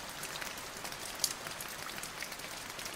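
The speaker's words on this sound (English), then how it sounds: "Something nice and relaxing with some raindrops coming down." Light rain falling in a soft steady hiss, with scattered individual raindrops ticking faintly over a quiet, even background.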